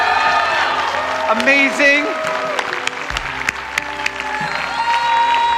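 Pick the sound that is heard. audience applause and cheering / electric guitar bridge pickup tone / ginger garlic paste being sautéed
audience applause and cheering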